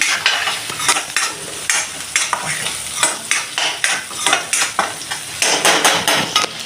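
Chopped green chillies sauté in a pan for wheat veg momos, sizzling loudly and close while a utensil stirs and scrapes in a quick, repeated rhythm of clattering strokes.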